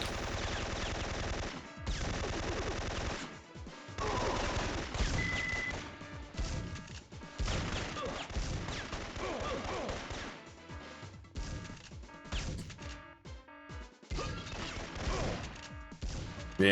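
Repeated combat shotgun blasts and gunfire in the Syphon Filter video game, a dense run of loud crashing shots and impacts going on almost without pause.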